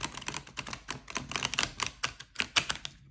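Oracle cards from the Chambre Rose deck being shuffled by hand, a quick run of close, crisp riffling clicks and flicks in steady bursts, with no voices.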